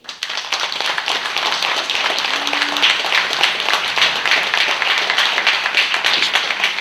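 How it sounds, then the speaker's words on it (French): A dense, even round of applause from an audience at an evening tribute event honours Mlle Karine Petit, with continuous close clapping throughout. "je voudrais que vous l'applaudissiez, c'est Mlle Karine Petit"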